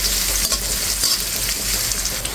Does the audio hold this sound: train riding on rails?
no